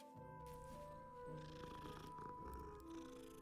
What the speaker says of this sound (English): Let's visit the cats again.